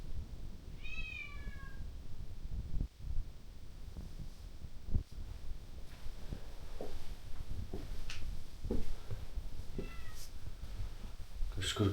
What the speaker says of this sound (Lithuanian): Kažkur knaukia katinas.